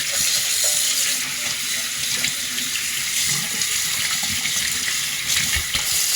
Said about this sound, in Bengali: তো চলো মাছগুলো এক এক করে ধুয়ে সব পরিষ্কার করে নিই